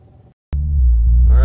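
A Chevrolet C7 Corvette sits stationary in launch control mode. After a brief hush, its engine cuts in abruptly with a loud, deep, steady rumble that holds close and swells slightly toward the end.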